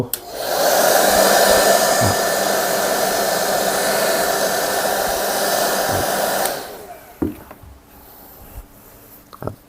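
A hair dryer blasts loud and steady for several seconds, cleaning the surface of a real gold piece before plating, then cuts off, leaving faint handling clicks and taps.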